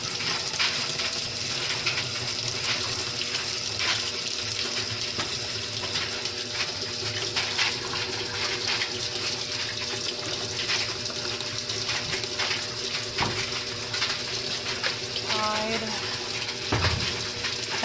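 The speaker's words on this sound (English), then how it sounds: "And now I'm going to start another load of diapers. Cold rinse." A washing machine filling with water for a cold rinse of a load of cloth diapers: steady loud gushing and hissing water flow throughout, with a few clunks and faint background sounds.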